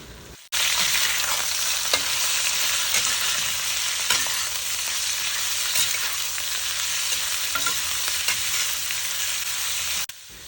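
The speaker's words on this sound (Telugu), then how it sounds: "ఈ చికెన్ అంతా కూడా మంచిగా ఈ ఆయిల్లో కలిసిపోయేలాగా మంచిగా ఫ్రై చేసుకోండి." Half a kilo of chicken frying in oil with onions, a loud continuous sizzle with occasional stirring scrapes, close up and steady for about ten seconds with no talk.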